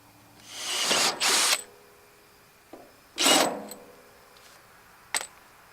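A power drill whirs in short bursts: two longer runs about a second each, then a brief pause, another run, and a final quick burst, close by.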